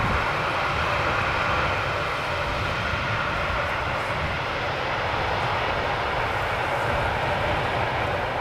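An Airbus A321neo jet airliner arrives over the Polderbaan runway at Amsterdam Schiphol on a hot day as a loud, steady engine roar close by, alone throughout.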